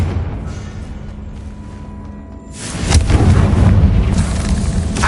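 A Confringo blasting curse explodes in Hogwarts Legacy, starting as a building rumble that swells into a loud, sustained roaring blast.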